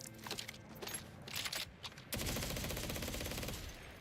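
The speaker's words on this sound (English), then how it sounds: "A sniper that shoots like a assault rifle is crazy" Fire sniper rifle firing rapidly in Borderlands 4, a fast stream of gunshots that turns into a dense, continuous burst of rapid fire for the last couple of seconds, fairly quiet in the mix.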